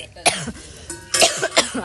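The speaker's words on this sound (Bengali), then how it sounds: "আর কাশি" A person coughs several times in quick bursts at an outdoor picnic cooking spot, close and loud, with brief pauses between the harsh coughs.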